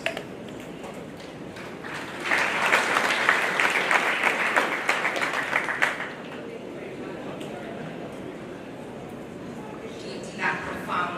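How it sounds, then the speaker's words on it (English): Applause rises from a conference audience at a refugee and immigration judges' gathering, several seconds of dense clapping that swells, then fades beneath a voice and low room noise. "Another round of applause."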